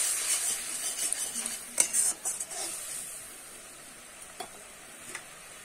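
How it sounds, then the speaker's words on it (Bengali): Curry gravy bubbling in a pan makes a soft steady sizzle, punctuated early by several clinks and scrapes of a utensil against the pan, then settling into quieter simmering. "ঝোলটা কিন্তু আমার খুব ভালো মতো দেখো ফুটে গেছে"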